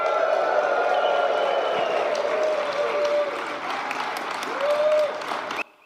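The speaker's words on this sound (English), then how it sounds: "Check it out. Cheer, everybody." Conference audience at the Microsoft 365 Conference closing keynote cheering and applauding together, a loud, steady wash of clapping with whoops and shouts that runs nearly six seconds before cutting off abruptly.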